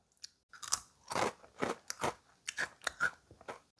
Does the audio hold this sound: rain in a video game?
no